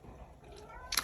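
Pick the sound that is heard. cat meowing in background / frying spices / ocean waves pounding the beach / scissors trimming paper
cat meowing in background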